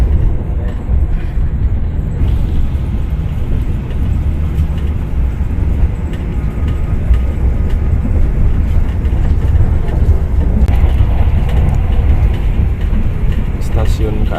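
Taksaka executive passenger train running through Gombong station, heard from inside the carriage as a loud, continuous low rumble and rattle, with people talking over it.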